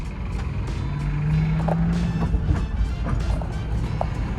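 Land Rover Discovery I with a new clutch and a persistent mechanical noise, driving on a test run; steady loud engine and road drone with a rising tonal whine, close inside the cabin, no talk.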